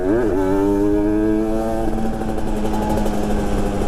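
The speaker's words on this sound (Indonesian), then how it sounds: "Enak juga ya naik 2 tak ya." An old two-stroke motorcycle engine revs up and holds a loud, buzzing, high-pitched drone, climbing in pitch at the start and then running steady and close.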